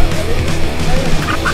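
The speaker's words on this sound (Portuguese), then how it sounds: "Tá lá as galinhas." Chickens in a coop cluck and squawk loudly and close, overlapping calls forming a dense, continuous clamour.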